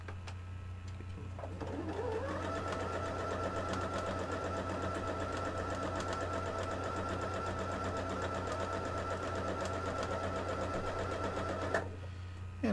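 A sewing machine runs steadily for about ten seconds, chain stitching quilt blocks for a Quilts of Valour quilt, a close, even mechanical whir over low background hum that starts and stops cleanly.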